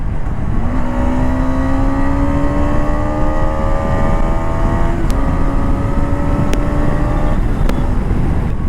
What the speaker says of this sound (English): when it comes to the mid RPM, you have the full throttle. I can show you that.